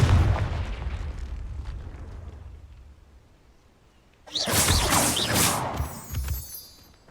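Fiery blast of the Confringo explosion spell in the wizarding game Hogwarts Legacy, a loud burst that erupts suddenly after a quieter rumbling stretch and then rolls and crackles for a couple of seconds before fading.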